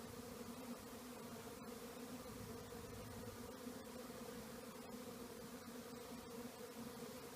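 Honey bees buzz in a steady, continuous drone as they are moved from a nuc box into a deep hive body, the hum holding level throughout with no talking.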